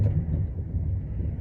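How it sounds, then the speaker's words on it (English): Strong wind gusting at Dome Rock near Quartzsite during an approaching storm, a loud steady low roar buffeting the microphone throughout with no talking. "Ooh, it's windy."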